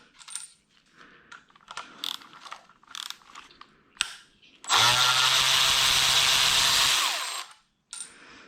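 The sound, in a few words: unscrewing parts on a BMW N55 engine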